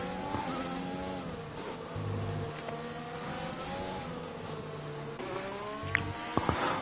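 Racing car engines whine and shift gears in a Hungary race within a racing video game, several cars droning together at a steady moderate level with rising pitch sweeps and a few sharp spikes near the end.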